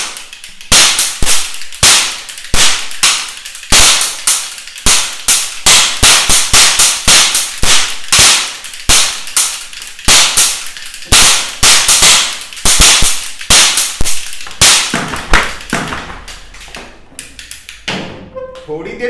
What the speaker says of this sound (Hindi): चल देखते हैं बंदूक से चुटपुटिया पटाखों के रोल कैप को सबसे पहले फोड़ के कौन खत्म करता है